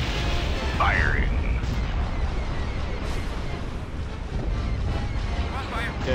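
Ship weapons firing in a Star Wars space combat video game, a dense continuous barrage of booming blasts and rumble throughout, with game radio chatter voices over it.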